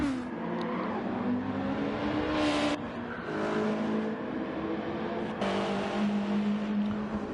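Race cars lapping a circuit in a multi-class race, engines droning loudly and sweeping past one after another, pitch rising and falling as each car passes.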